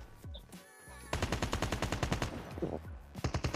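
Rapid automatic gunfire in Call of Duty Mobile, a dense burst of evenly spaced shots that starts abruptly after a brief quiet moment and keeps firing steadily to the end, loud and close with no voices over it.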